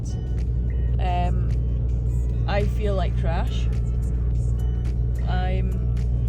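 A car drives along a road toward a ski resort in Bosnia, heard from inside as a constant low engine and road rumble under a person's intermittent talking.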